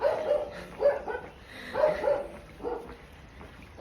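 A puppy barks in short, close, sharp yips repeated at irregular intervals, loud against a quiet background.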